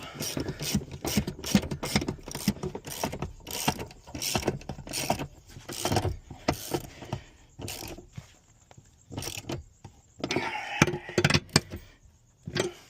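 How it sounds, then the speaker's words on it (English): Up close, a ratchet tightens bolts on a Chevrolet Trailblazer back hatch during a restoration, giving a long run of quick, loud, rhythmic clicks and pawl chatter with brief pauses between strokes. "while you're resetting your ratchet, you're twisting it hand tight"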